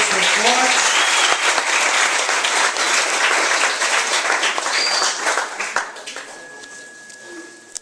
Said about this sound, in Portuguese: Vamos aplaudir a palavra de Deus bem forte.